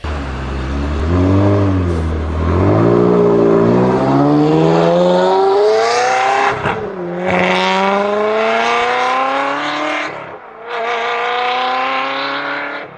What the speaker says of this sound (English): Maybe that's with an aftermarket exhaust, but yeah, that is the Ferrari 360.